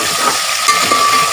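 Chopped onion frying in a pan for a Filipino-style poha (flattened rice) breakfast dish, a steady close sizzle with scraping stirs throughout, no voices.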